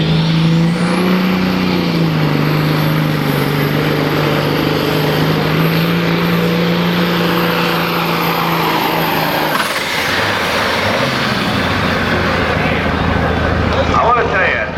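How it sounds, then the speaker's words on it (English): A loud, roaring hot rod semi truck engine drones steadily under the noise of a crowd at a truck pulling event, its pitch climbing at the start, then the roar breaks up near the end. "Just love semi-trucks, so why not pull one?"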